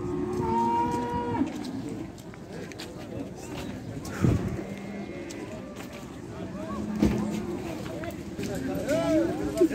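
Cattle mooing at a busy weekly livestock bazaar, several long, loud lowing calls rising over a constant murmur of crowd chatter and market bustle.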